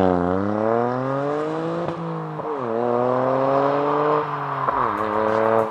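A three-cylinder turbo Mini built as a Porsche GT3 lookalike revs hard, its engine note climbing steadily through gears with brief dips at each shift, loud and close throughout.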